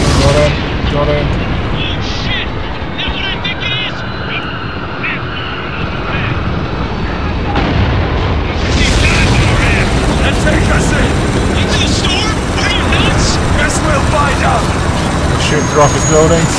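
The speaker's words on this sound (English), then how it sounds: "Shooting through office buildings, which is quite funny." Gunfire rattles through office buildings in the shooter Spec Ops: The Line, loud bursts over a dense roaring game soundscape with aircraft-like drone, continuing throughout.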